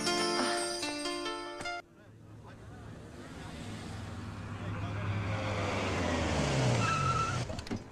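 A car drives hard and its tires skid, a loud, sustained roar of engine and tire noise with a rising squeal that follows a short burst of music at the start.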